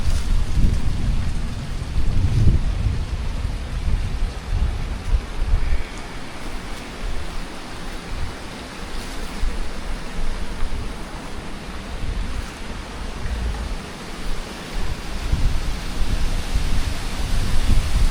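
Water rushing hard through the filter of a large village fish pond, a loud, steady broadband roar with no break from start to finish.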